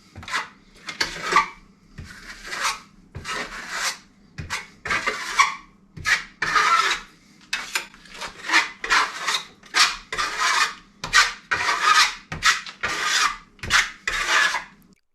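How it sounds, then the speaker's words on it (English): Steel trowel spreading a first coat of Venetian polished plaster across a wall, a steady run of rasping, scraping strokes, each a short loud swipe repeating close by with brief pauses between. "I'm just applying the plaster in the best way I know and the only way I know at this point."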